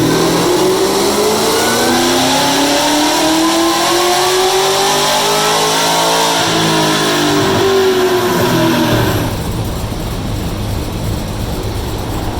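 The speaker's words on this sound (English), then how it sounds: "We'll see what happens when we rev it out." A 2016 Cadillac CTS-V engine, running after a blown transmission, revs hard and loud, its pitch climbing steadily through the rev before dropping off sharply near the end to a lower, rougher rumble.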